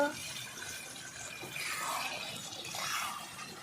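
Chicken kosha curry boils in a covered pot, giving a faint, steady bubbling and gurgling with soft splashy liquid noise that swells slightly midway and again near the end.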